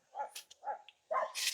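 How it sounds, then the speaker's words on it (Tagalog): Dogs next door barking in a few short yapping bursts at moderate distance, with brief quiet gaps between the barks. "So, kaya maiingay po ang kanyang mga aso."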